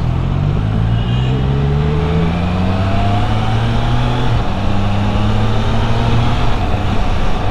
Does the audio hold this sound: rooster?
no